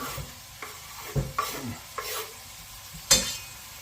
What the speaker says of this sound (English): The pan is just heating, so I'm just going to add the onion